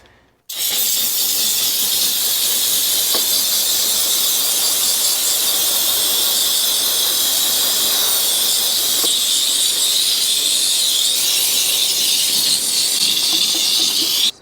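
Steam cleaner spraying the wheel of a 1982 Honda CX500 Turbo motorcycle, a loud continuous high hiss that runs steadily for the whole stretch after a brief quiet start, with faint squeaks underneath and no talking.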